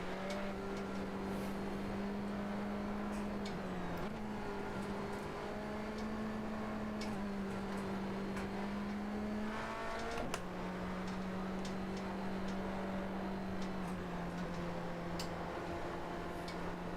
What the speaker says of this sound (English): I love how these cars sound.